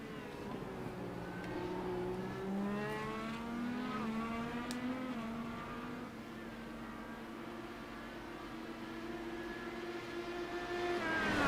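Simulated IndyCar race cars lapping Road Atlanta in iRacing, several engines whining and shifting pitch as they accelerate and brake, a steady distant drone of multiple cars without talk.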